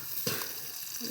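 Tomatoes dropped into a hot pan on a home kitchen stove, giving a soft, steady frying sizzle with a brief louder hiss as they go in, fairly faint and heard alone.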